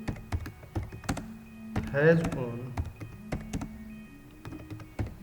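A computer keyboard is tapped in steady, fairly close keystrokes running through the whole stretch, while someone briefly speaks over it partway through.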